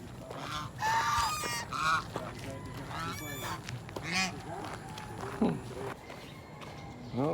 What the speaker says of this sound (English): These are geese.